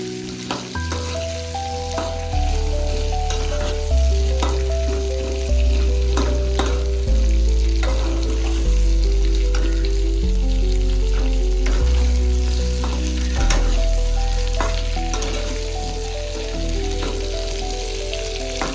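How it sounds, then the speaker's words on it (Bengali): Green bananas frying in oil left over from frying fish, a steady crackling sizzle running underneath fairly loud background music. "কলাগুলো একটু ভেজে নিচ্ছি তেলে।"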